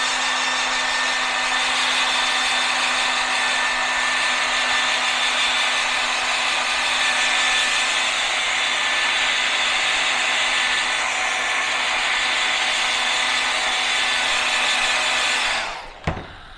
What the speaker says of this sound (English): I'm gonna go back here now and run the hairdryer on it a little bit